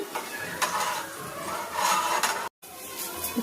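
Food frying in a pan is stirred, producing a continuous sizzle with repeated scraping strokes close up, cut by a brief silent gap.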